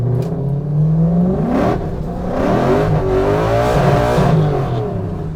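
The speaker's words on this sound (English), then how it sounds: "This thing at limiter is so beautiful. I love just like kind of going through the RPM range, not even at full throttle." A solid-axle drift truck engine revs repeatedly up through its range toward the limiter, rising and falling roars with a rough, rasping exhaust tone, loud and close, with no talking.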